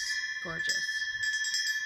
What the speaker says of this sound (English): Elephant bell, brass,